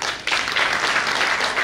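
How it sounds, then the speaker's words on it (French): At the launch of the Djaka Festival Adja 2022 in Abidjan, an audience claps in a dense, continuous burst of applause, fairly loud and unbroken through the short stretch, with no talk over it. "On l'a applaudi, c'est ce qu'il fallait."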